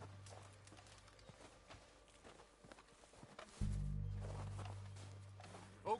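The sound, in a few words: horses' hooves in Red Dead Redemption 2 video game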